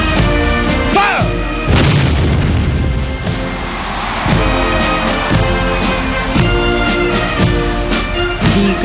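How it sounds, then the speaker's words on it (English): Artillery guns firing a 21-gun salute for the President at a Singapore National Day Parade, heavy booms repeating at roughly one-second intervals, loud and echoing over a busy outdoor background. "21 shots makes this a salute of the highest order to the President."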